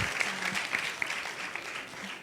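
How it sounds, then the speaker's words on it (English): Audience at a youth TVET competition applauds a presenter of a smart solar water heater project, a fairly quiet, even round of clapping with a faint tonal ring over it. "Can we clap for him, please?"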